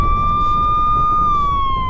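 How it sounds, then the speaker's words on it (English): A single loud siren tone holding steady, then sliding slightly downward, with a low rumbling background. "Do some sirens and explosions and Phil, go on."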